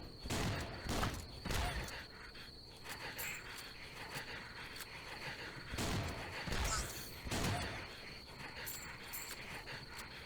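Bursts of Uzi submachine-gun fire from the Swamp Attack video game, a few loud clustered volleys spaced across the clip over a steady insect-like chirping backdrop.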